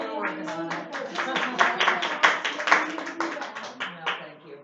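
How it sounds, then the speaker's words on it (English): A small group at a board meeting clapping for a colleague, a handful of close, distinct hand claps in an uneven patter that fades at the end, with people speaking around it. "I think we should give Sandra a round of applause"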